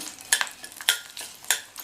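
Quick scraping and clinking of a utensil stirring green chillies and garlic in a pan, with a light sizzle underneath; short irregular strokes, close by.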